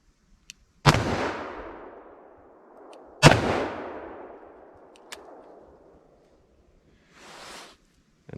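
An S&W Model 69 Combat Magnum revolver firing 240 grain rounds: two loud, sharp shots a couple of seconds apart, each with a long echoing decay outdoors, followed by faint clicks and a brief rustle.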